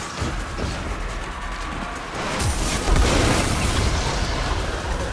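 Booming explosions roll out in Destiny 2 as a flame is dunked during a game event, a dense, loud, sustained blast with heavy low rumble that swells near the middle.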